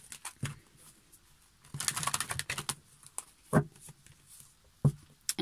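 Tarot cards being shuffled by hand, irregular soft riffling and tapping with a few sharper clicks, quiet and close with brief pauses between bursts.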